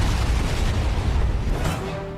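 Deep, rumbling explosion of laboratories in a Resident Evil video game, a sustained loud boom and roaring blast that fades slightly toward the end, with no talking.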